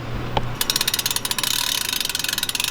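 An Allen key turns the master link of a BMX bike chain, giving a fast, even run of close ratcheting clicks after a short thump at the start, loud and near with no talking.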